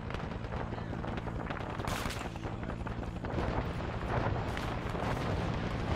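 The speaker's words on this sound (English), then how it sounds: "Getting fire from a different angle" Dense, continuous gunfire from an Arma 3 Vietnam-era firefight, with rapid overlapping shots and bursts rolling on steadily and growing slightly heavier toward the end, with no voices clearly heard.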